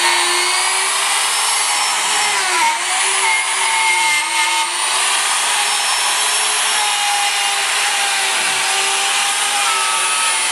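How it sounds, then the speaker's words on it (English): A power drill bores through stacked wooden frame pieces for a coil mount, a loud, sustained whining grind that dips briefly in pitch as the bit bites, continuous and close with no voices. "I just drill these 2 points, and that's the anchor point, and that'll drill through both pieces"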